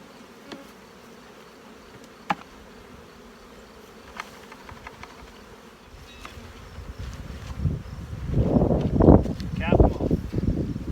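Honeybees being dropped into a hive box during a transfer, a low steady buzzing that swells loudly near the end as the mass of bees tumbles in, with faint handling knocks earlier.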